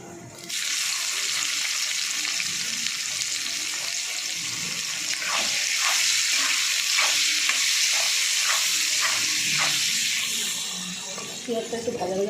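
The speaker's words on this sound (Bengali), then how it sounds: "পেঁয়াজটা একটু ভাজা ভাজা করে নেবো।" Onions sizzle in hot oil with dry red chillies, cumin and bay leaves, a loud continuous frying hiss with a run of rhythmic stirring scrapes in the middle, fading near the end with no talk.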